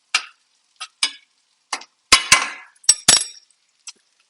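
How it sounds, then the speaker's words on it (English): Mushrooms in a pan being stirred with a utensil: a handful of sharp clinks and scrapes against the pan, irregularly spaced, close and fairly loud, without talk. "Give my mushrooms a little stir."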